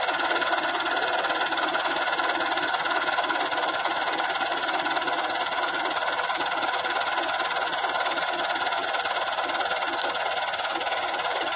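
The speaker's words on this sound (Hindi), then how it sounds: "ऊपर ट्रैक्टर बड़ा ख्याल से फेरना पड़ता है" A tractor engine drones steadily and close while driving over a pile of corn silage, a continuous rough hum with broad hiss and no pauses, and no voices heard.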